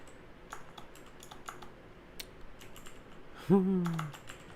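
Keystrokes on a computer keyboard while coding a Rust chat server, scattered clicks in bursts at moderate level, followed near the end by a brief voiced sound.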